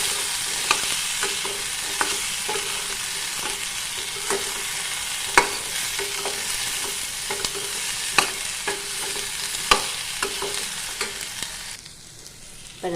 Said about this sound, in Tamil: வெங்காயம் பாதி வதங்கினையும் இஞ்சி பூண்டு ஆட் பண்ணிக்கலாம்